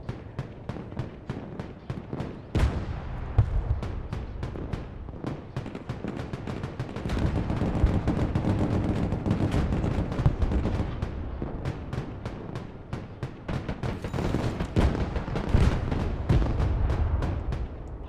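Dense gunfire and artillery from a Broken Arrow battle scenario, with rapid rattling volleys and repeated booming blasts that continue without pause and grow heavier partway through. The sound is loud and close, with no speech over it.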